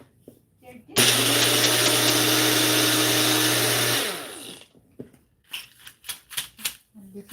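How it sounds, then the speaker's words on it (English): A kitchen blender whirs loud and close for about three seconds, starting abruptly and then winding down, followed by clattering and short bursts of activity while making cakes. "This is why I call this a full blender."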